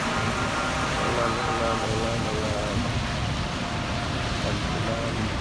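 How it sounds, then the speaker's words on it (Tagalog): Heavy rain falling in Salmiya, Kuwait, a steady broadband hiss of downpour on surfaces, heard continuously. "Lakas ng ulan, raining."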